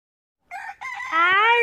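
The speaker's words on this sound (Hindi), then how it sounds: "Rooster. Rooster यानी मुर्गा." A rooster crows close and loud after a moment of silence, a broken first note followed by a long rising, sustained call.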